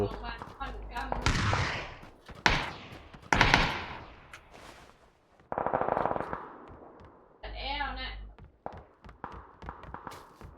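Gunfire in the PUBG video game rattles in bursts of shots across the clip, loud and close, mixed with excited voices talking over the action.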